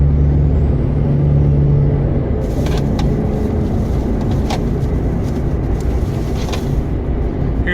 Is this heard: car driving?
yes